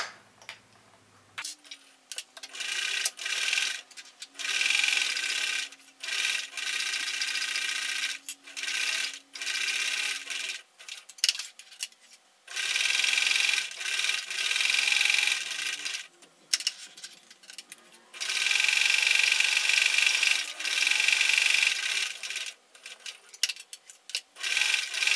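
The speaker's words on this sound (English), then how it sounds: "So now I'm going to stitch 1/4 inch all the way around" Sewing machine stitching a straight seam around a fabric face mask, whirring in bursts of several seconds separated by short pauses, close and steady.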